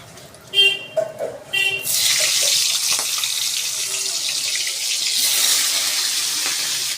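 Fish pieces dropped into hot oil, a few short knocks and clatters followed by a sudden loud, steady frying hiss that carries on close to the end.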